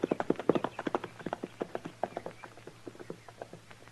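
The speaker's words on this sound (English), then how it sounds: "I left my horse over the rise there, Snyder." A horse's hooves clip-clop in a quick, steady rhythm on hard ground, close and distinct, gradually easing in pace with no other sounds over them.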